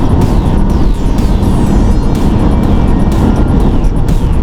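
A Ford Mustang's engine pulls hard at full throttle in third gear during a test drive, a loud, steady broadband roar that holds throughout with no gaps.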